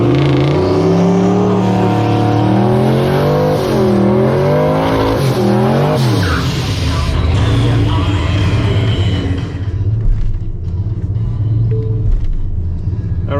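A turbocharged maroon Foxbody Mustang running about 18 pounds of boost drag races a Tesla Plaid at a dragstrip, its engine revving loudly through rising and falling gear pulls before dropping to a rumbling roar as it fades away.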